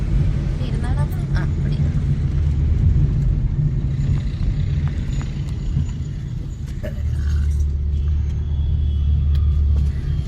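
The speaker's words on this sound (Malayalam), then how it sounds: "ട്രാഫിക് ആയിരിക്കും" Road traffic noise from inside a moving car on a family trip in Kerala, a steady low engine and tyre rumble throughout with faint passing vehicles and occasional soft clicks.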